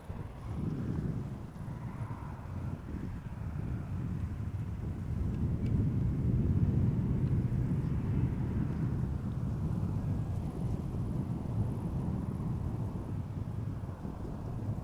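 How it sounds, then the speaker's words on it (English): A Transavia Boeing 737-800 arriving from Faro lands at Amsterdam Schiphol, a low, steady distant engine rumble that swells gently and holds, mixed with wind noise. "next up, Transavia 737-800 arriving from Faro in Portugal."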